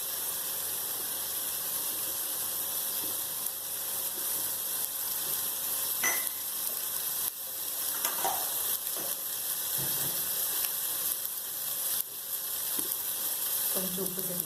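Two medium tomatoes cooking soft in a pan for Nellai-style mutton salna, giving a steady close sizzle and hiss with a few sharp spoon scrapes and knocks against the pan.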